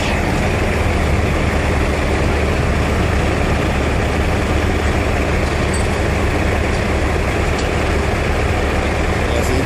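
A forklift engine runs as the machine drives forward, giving a loud, steady, unbroken rumble that holds at the same level from start to finish.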